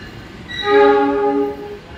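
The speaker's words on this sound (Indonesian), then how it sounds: "Kereta api Turangga tujuan akhir Bandung" A Turangga passenger train bound for Bandung sounds its horn in one sustained, loud, tonal blast that swells and fades over a couple of seconds against low running rumble.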